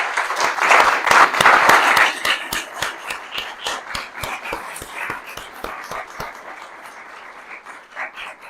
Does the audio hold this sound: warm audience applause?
yes